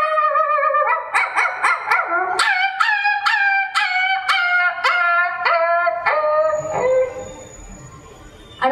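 A voice imitating a barking dog struck by a stone at a school mimicry performance: a rapid run of about a dozen loud, close yelps that trail off into a fading whimper.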